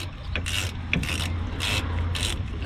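A wrench ratchets in repeated even strokes while tightening brake bolts on a 2004 Lexus ES330, close and fairly loud over a steady low background hum.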